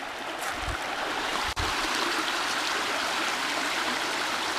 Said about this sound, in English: So we've now stopped at a river.